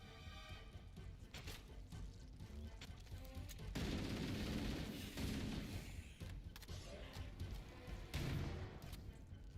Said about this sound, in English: I just shotgunned that guy out of existence.